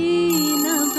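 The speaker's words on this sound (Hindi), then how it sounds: "चुनांचे जब टेलीफोन की घंटी बजी" Electronic telephone ringtone with steady tonal harmonics, loud and close, shifting pitch partway through a brief ring with no voices.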